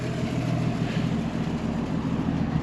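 A 1953 Ford Customline club coupe with a non-original dual exhaust runs close by, its engine putting out a steady, loud, even rumble from the rear pipes.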